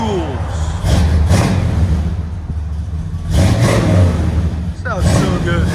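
Ford F-250 with a 7.5L (460) V8 and Flowmaster Super 40 true dual exhaust revs up in repeated loud, close bursts over a deep idling rumble, with a voice talking in between.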